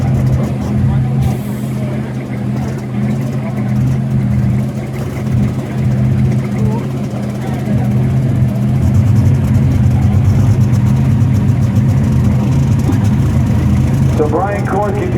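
A Jacked Up Peterbilt truck engine runs hard during a truck pull at Bowling Green in 2016, a loud, steady low roar over the full stretch, with an announcer talking over it.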